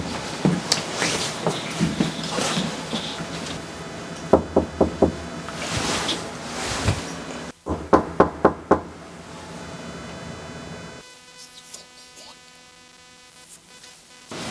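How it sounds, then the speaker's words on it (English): Knocking on a college dormitory room door: several bursts of sharp knuckle raps, in groups of three or four, close and loud, separated by pauses with faint background noise. "Let's knock on this one."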